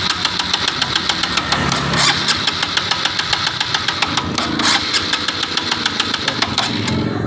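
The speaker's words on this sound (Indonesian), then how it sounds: "Dan kita coba lagi starter." A 2018 Honda Supra X 125 motorcycle with a weak pulser fault cranks on its electric starter, a loud, steady, rhythmic whirring churn that continues without the engine catching.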